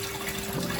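Water gushes steadily into an aquarium fish tank being refilled after cleaning, a brief, close, even rushing sound.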